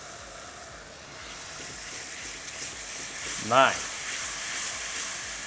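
Spiced yogurt hitting a hot pan of half-cooked onions on high heat while making dahi bhindi, giving a brief sharp sizzle burst over a low steady frying hiss, with a voice speaking briefly.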